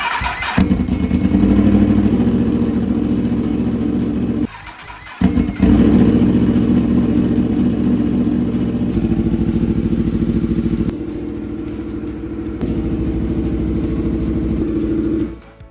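A Yamaha R1S sport motorcycle, once wrecked, runs loud and close with a steady rasping engine note, breaking off briefly near the start and again before the end, then climbing into sharp revs.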